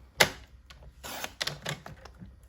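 A paper trimmer slices through scored cardstock for a tri-fold card, with a sharp click at the start followed by a few soft, close sliding and snapping sounds in a quiet room.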